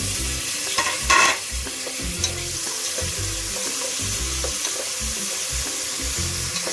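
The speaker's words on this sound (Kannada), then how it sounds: "ಇವಾಗ ನೋಡಿ ಟೊಮೆಟೊ ಹಾಕ್ಕೊತಾ ಇದ್ದೀನಿ" Tomato frying in a pan for mutton leg soup: continuous close sizzling with rhythmic spatula scrapes and stirring strokes throughout, a brief louder hiss near the start.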